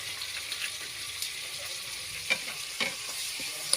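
Bean sprouts stir-fried with soy sauce in a pan give a steady, close sizzle with scraping stir strokes and a few sharp clinks of a utensil against the pan, and no voices.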